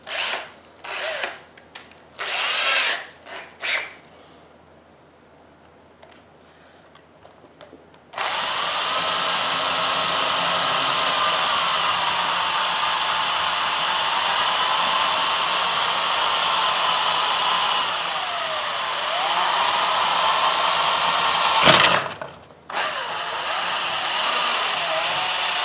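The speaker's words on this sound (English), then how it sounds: "I'm going to bore it out a little. Since I do have to use this other drill bit, it shouldn't be as hard." A power drill bores out a hole during a DIY installation of a DJI Phantom upgrade kit. Several short bursts come first, then a pause, then a long, loud, steady whining run with slight pitch wobbles that stops briefly and starts again.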